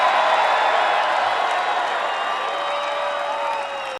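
A rally crowd cheering and applauding Nigel Farage, a loud continuous roar of cheers and whoops with clapping underneath, heard at a distance and holding steady before cutting off.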